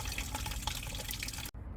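Water gushes loudly and continuously from the radiator of a Peugeot 205 GTI as it drains, close by, then cuts off abruptly just before the end.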